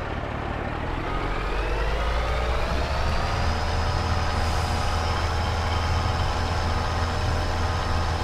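Truck engine idling and rumbling steadily in Farming Simulator 22 while backing up to park a trailer, with a continuous low drone, faint rising whine and steady loudness throughout, no talking.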